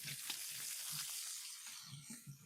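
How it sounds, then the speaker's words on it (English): Bacon sizzles in a pan while being stirred, giving a soft continuous crackling hiss with a few brief scraping stirs, quiet and close, with no one speaking. "Give my bacon a little bit of a stir here real quick"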